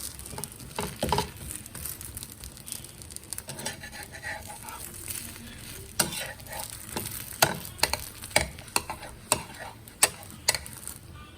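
Sponge dosa fries in ghee on a pan, crackling softly under repeated sharp taps and scrapes of a spatula, busier toward the end.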